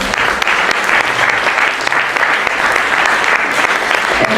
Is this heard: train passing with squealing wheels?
no